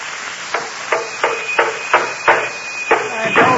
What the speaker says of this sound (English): busy with a hammer and nails